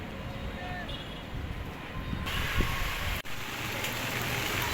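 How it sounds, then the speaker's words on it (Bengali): Rain pouring down while people stand under a roadside shelter, a continuous hiss of falling rain that swells louder midway, with voices talking over it. "এত সুন্দর বৃষ্টি নামছে"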